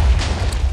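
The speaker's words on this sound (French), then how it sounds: "Vous voyez donc attention, explosion." A Minecraft TNT explosion rolls out as a deep, muffled boom with heavy low-end rumble, loud and sustained through the short moment without voices.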